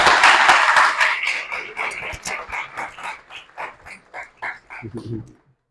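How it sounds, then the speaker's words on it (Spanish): An audience applauds Mario at the close of a talk on extremophiles: dense, loud clapping at first that thins out into scattered, separate claps before stopping. "un aplauso para Mario"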